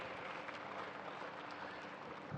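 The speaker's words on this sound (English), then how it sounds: "So do please give them a loud round of applause when they bring the checks in." Applause from spectators at a tennis tournament finals ceremony, a soft, even wash of clapping heard at a distance and fairly faint, continuing without pause and without talk.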